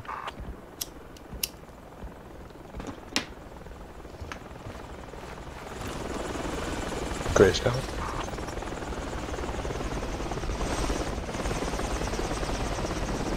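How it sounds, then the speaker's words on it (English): Helicopter in a multiplayer shooter game, its rotor drone swelling from about six seconds on and holding steady under game clicks and brief talk. "Okay, inbound chopper."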